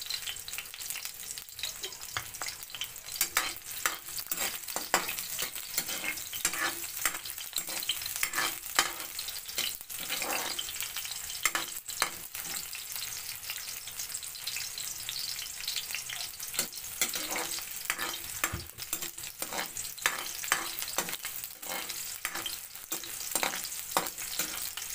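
Garlic and onions sauté in a pan for chop suey, a continuous close sizzle broken by frequent spatula stirs and scrapes for the whole stretch, with no voices.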